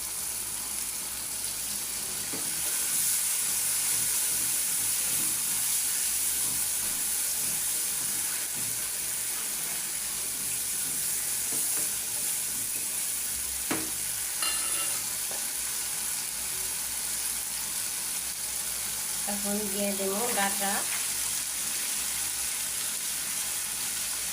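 Shrimp and vegetable stems sauté in a pan, a low steady sizzle beneath faint scraping of stirring, with a brief clatter and a short clink of utensil near the end, quiet and close, no speech.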